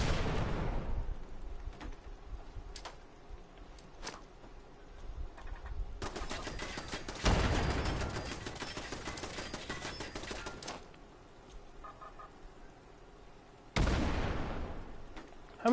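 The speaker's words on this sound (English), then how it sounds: "Let's see if I can do this one with all grenades." Grenade explosions in the Fallout 76 video game, with a booming blast at the start, another large burst in the middle and a third near the end, separated by scattered clicks and rattling gunfire.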